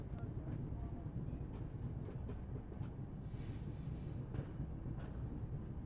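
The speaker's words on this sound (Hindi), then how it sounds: "ये कार्गो वाली है, जो पार्सल वैन होती है उसको ले जा रही है यह ट्रेन।" A cargo train hauling parcel vans rumbles past at a station, a faint steady low rolling drone with light rhythmic wheel clicks throughout.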